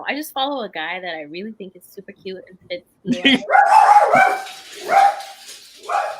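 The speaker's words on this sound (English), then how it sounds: "Sorry, that's my dog." A pet dog barks several times at close range indoors, loud bursts that come right after a person finishes talking.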